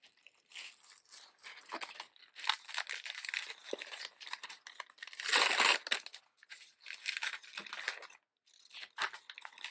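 A small plastic bag of doll accessories is torn open and rummaged through: close, uneven bursts of crinkling, crumpling and tearing, with a louder crunchy rustle in the middle and brief quiet gaps, no talking.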